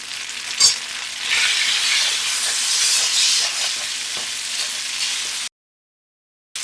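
Spaghetti noodles sizzling loudly in oil in a frying pan for chicken chow mein, a dense continuous hiss with a sharp crackling burst at the start and light stirring knocks, cutting to silence before a brief return.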